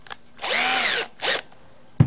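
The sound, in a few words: power drill spinning an earbud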